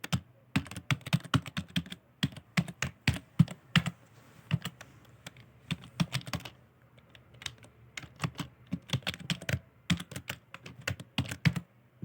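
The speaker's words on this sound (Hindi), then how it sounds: "तो सबसे पहले मैं सिंटैक्स टाइप कर लेता हूँ।" Someone types C loop syntax on a computer keyboard, producing fast bursts of crisp key clicks separated by short pauses, close and clear with no talking.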